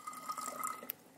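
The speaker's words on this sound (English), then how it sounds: "Now I have a nice, clean, fresh bottle, which I will then pour in my lemon juice." Fresh lemon juice poured into a clean bottle, a faint trickling liquid fill with a rising tone, ending in a brief soft clink or drip, without talk.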